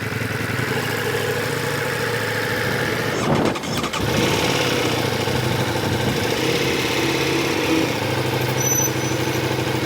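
A motorcycle engine runs steadily at idle, loud and close, with a brief dip and rattle partway through before settling back to a constant drone.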